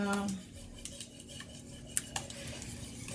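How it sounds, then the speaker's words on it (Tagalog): Egg pie ingredients are mixed in a bowl with a utensil, giving soft scraping and light clinks with a couple of sharper taps. It is fairly quiet and close, with a brief voice at the start. "so I just have to mix up together"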